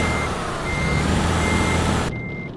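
A truck reversing in Euro Truck Simulator 2: a steady high electronic beep repeats over a loud engine rumble, then the engine cuts out abruptly and one last beep sounds alone.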